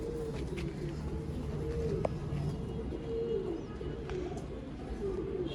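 Pigeons kept for sale in Bangalore coo in low, repeated rolling calls that overlap one another, close and moderately loud over a constant background hum, with faint chirps mixed in.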